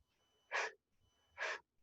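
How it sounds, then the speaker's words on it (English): Two forceful, evenly spaced exhalations push out in quick bursts like a piston during a yoga exercise, close and breathy, with quiet pauses between them. "And I'm actually breathing out through the mat. I'm making the sound of a piston."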